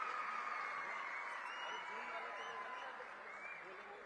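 An audience applauds at a public government event in Chhattisgarh: sustained, dense clapping from a large crowd, fairly distant and steady, slowly tapering over about four seconds, with faint murmuring voices mixed in.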